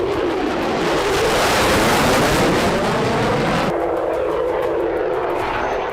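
A fighter jet roars past, a loud continuous broadband rush that holds steady and then dulls partway through, with no voices.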